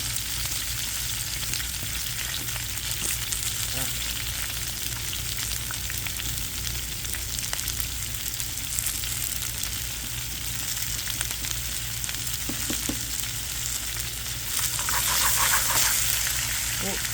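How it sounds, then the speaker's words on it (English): Peppers, onions and garlic fry in olive oil in a pan for a veal and pepper parmesan hero. A dense, continuous sizzle runs close and loud throughout, with occasional stirring and a brief voice, swelling near the end. "Then I'm going to throw our peppers, onions, and garlic in there"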